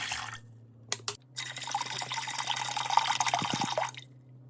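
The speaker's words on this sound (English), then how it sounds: "To a pot, I'm gonna add 3 bottles of filtered water." Filtered water poured from bottles into a cooking pot in a home kitchen, a steady close splashing stream with a few knocks as the bottles are handled.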